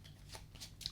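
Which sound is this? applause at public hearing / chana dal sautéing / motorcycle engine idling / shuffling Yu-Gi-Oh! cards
shuffling Yu-Gi-Oh! cards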